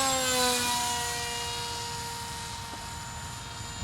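A Foam Fighter Bird of Prey, a foam RC airplane, cruises overhead with a high, steady electric motor whine. The drone eases slowly as the plane moves off, with no talk.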